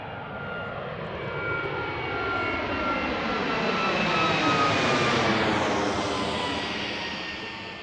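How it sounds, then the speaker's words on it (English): A Boeing 757 jet roars on takeoff from Washington Reagan National Airport, a steady loud engine rumble that swells to a peak midway and slowly fades as the plane departs, with no talk. "We had another 757 takeoff there."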